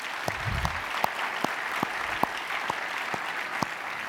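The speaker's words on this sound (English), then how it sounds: "how about another round of applause for my colleagues and friends" Audience applause for two doctors at the opening ceremony of a plastic surgery meeting, a steady wash of clapping from a crowd with a few sharper claps standing out.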